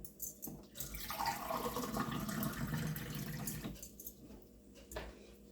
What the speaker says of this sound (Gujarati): થોડું થોડું પાણી નાખી જઈએ એટલે બરાબર લોટ આપણો બંધાઈ જાય